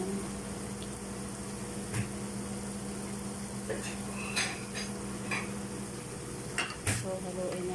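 A utensil scrapes and tosses sliced cucumber in a frying pan for pancit canton guisado, a soft continuous sizzle with a few sharper clinks of metal on the pan, fairly quiet and with no talking.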